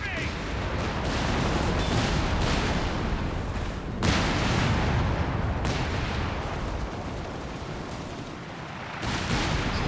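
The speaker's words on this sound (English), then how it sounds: "Stuka dive bomb!" A Stuka dive-bomb strike from Company of Heroes 3, a 4v4 match, heard as a dense, continuous roar of explosions and battle noise with a sharp impact burst midway, loud throughout beneath a commentator's voice.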